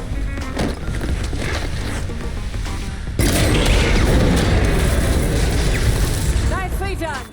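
A grenade detonates inside a hulking robot in Cyberpunk 2077 Phantom Liberty: a heavy boom cuts in midway over the combat din, followed by sustained rumbling debris and mechanical clatter, with brief chirping electronic tones near the end.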